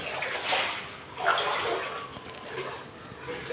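Floodwater about two to two and a half feet deep inside a flooded house, with soft sloshing and splashing swells of water that rise and fall, close by.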